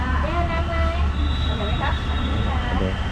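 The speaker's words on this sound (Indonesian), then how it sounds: "ini adalah kereta api Thailand" A Thai passenger train rolls between Hat Yai and Bangkok with a steady low rumble and rattling carriage noise, and a high squeal drifts over it while someone talks nearby.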